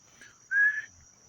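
A person whistles once for a pet dog: a single short, steady, high note, near and clear, in a quiet outdoor setting with a faint high hum in the background.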